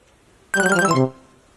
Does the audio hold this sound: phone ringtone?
yes